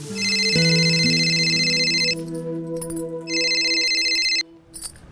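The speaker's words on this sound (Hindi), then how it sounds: "तेरा फोन बज रहा है" Electronic phone ringtone in a home, a steady sustained tone pattern that cuts out briefly, then resumes before stopping; loud and close, with no talk over it.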